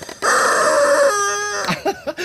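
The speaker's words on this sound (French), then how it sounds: "J'adore ce poulet en plastique en plus." A plastic rubber chicken toy lets out a loud, long squawking squeal whose pitch drops partway through, ending in a few short wheezing squeaks as the air runs out.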